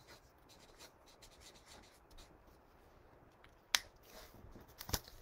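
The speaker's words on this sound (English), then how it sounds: "So on one side, I'll write Ferris wheel." Faint scratchy strokes of a marker writing on a card for a circus-themed memory game, soft and close in a quiet room, with a couple of sharper taps near the end.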